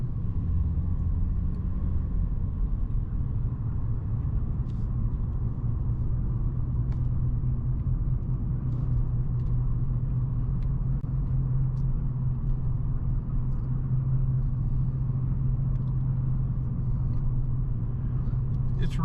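A car cruising steadily through a small Idaho town, its low engine and road rumble constant and fairly close throughout, with faint ticks and no clear change in pace.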